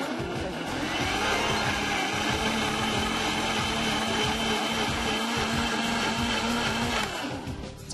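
A kitchen blender grinds prepared roots at high speed, running as a loud, continuous whirring roar for about seven seconds before it winds down at the end.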